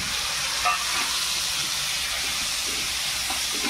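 Finely chopped tomato and onion frying over high gas heat in a pan for a dhaba-style mushroom masala, a steady close sizzle with faint stirring scrapes and no talking.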